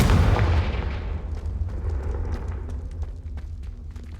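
A heavy booming blast from the Confringo fire spell in the video game Hogwarts Legacy, loud and sustained at the start, then a rumbling decay with faint crackles trailing off.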